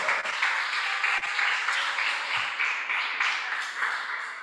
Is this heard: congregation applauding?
yes